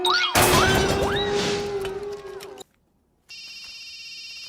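A telephone rings with a steady electronic tone after a loud dramatic burst with voices, then a short silence.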